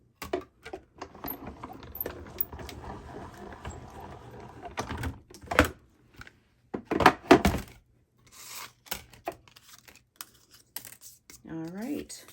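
A die cutting machine cuts a deckled rectangle from white cardstock, making quiet close clicks, thunks and a rolling mechanical crunch in scattered bursts, with a few soft handling noises between them.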